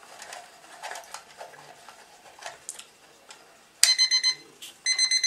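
Ticking and clattering mechanical noises from a repaired alarm clock, then it bursts into loud ringing in two short rings near the end.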